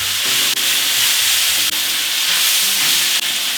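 Onions with garlic and ginger purée are stirred and frying in a pan for homemade beef and broccoli, giving a loud continuous sizzle close by, broken by a few brief scrapes of the spoon.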